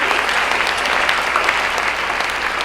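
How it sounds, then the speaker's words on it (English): A large audience at a seniors' talent show in Chattanooga applauds in a steady, dense wash of clapping that holds at an even level from start to finish, with no breaks. "let's give yourselves a round of applause for being a wonderful audience this evening"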